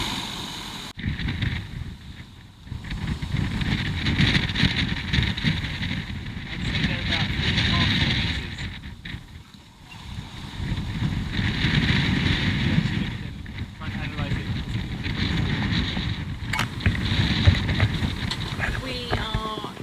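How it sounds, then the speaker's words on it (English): A small-sailed sailboat surfing down a big wave in the Atlantic on the way to the Cape Verde Islands: broad, surging rush of water and wind buffeting the mic in long swells, loud and continuous, with someone talking over it. "There's a great big wave coming up behind us now. We're surfing down it now."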